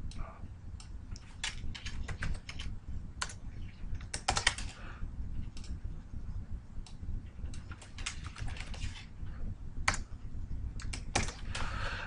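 Rapid, irregular clicking of keys on a computer keyboard, close and fairly quiet, with occasional louder key strikes and no talking.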